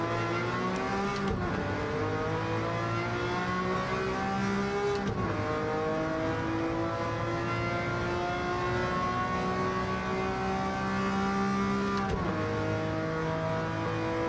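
Ferrari 330 P4 race car in a racing video game, its engine droning loudly as it brakes and drops through the gears for chicanes, with sharp rev blips marking each downshift over a continuous engine tone.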